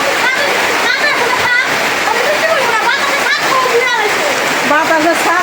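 Heavy rain pours down in a steady, loud roar and splatter, with people talking over it throughout.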